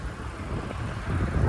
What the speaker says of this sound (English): A huge garbage truck making a lot of noise right now.